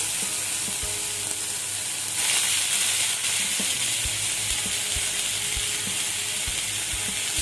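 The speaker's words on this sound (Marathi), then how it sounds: "त्यानंतर आपण घालणार आहोत पेस्ट आलं लसूण आणि मिरचीची हे थोडंसं परतून घेऊया आता मी ऍड करते कांदा" Onion fries in a pan with ginger, garlic and chili paste, giving a continuous close sizzle punctuated by light taps and clicks of stirring, with no talking.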